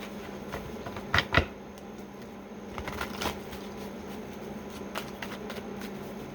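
Tarot cards being shuffled by hand, with a loud riffling burst near the start followed by softer, irregular card flicks and slides over a steady low background hum.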